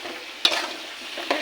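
Turmeric, cumin and chilli powder with salt sizzle in hot oil for a tilapia curry, a steady close fry broken by two sharp stirring scrapes.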